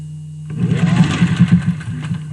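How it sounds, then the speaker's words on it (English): A 1950s Singer 201-2 sewing machine runs steadily while stitching fabric masks, its close mechanical whir and rhythmic needle chatter starting after a half-second pause and continuing to the end. "The machine is a Singer 201-2 from the 1950s"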